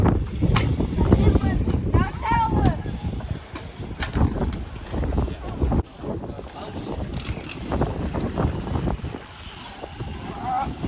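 Strong outdoor wind buffets the microphone with loud, gusting low rumble that rises and falls throughout. People talk intermittently underneath it.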